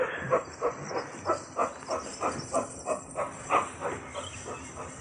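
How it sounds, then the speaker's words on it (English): A dog dragging its chain as a sound effect in a 1984 Australian radio drama of Watership Down: a rhythmic series of rattling, scraping pulses about every half second, close and steady over a faint hiss. "A dog dragging his chain."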